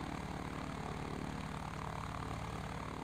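Propeller airplane engine in the BeamNG Drive video game, a low, rhythmic pulsing drone held at a steady idle-like pace, moderately quiet and unbroken, with no talk over it.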